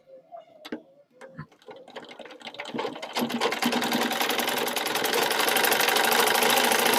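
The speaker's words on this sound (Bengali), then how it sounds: "সাইড সেলাই করছি, সাইডের এখানেও ডাবল সেলাই দিবেন।" A sewing machine stitches the side seam of newborn baby clothes, starting with a few clicks and handling knocks, then building into a fast, steady, close rattling hum that holds loud to the end.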